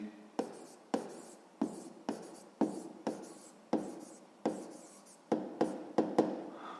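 A pen writes on paper while proportion terms are noted in a sixth-grade maths exercise, a dozen crisp strokes in a regular rhythm, close and quiet with no talk.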